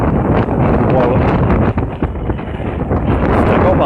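Strong wind in the aftermath of an EF2 tornado in Hull roars continuously and loudly across the microphone, a dense buffeting rumble with occasional flutters throughout.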